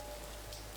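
Steady rain falling outdoors near a stream, a dense even hiss of drops on surfaces with no gaps and no voices.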